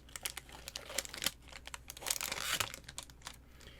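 Lid of a Meiji macadamia chocolate tin peeled back from one corner, giving a close, quiet run of crinkly tearing and crackling over a few seconds, no talking.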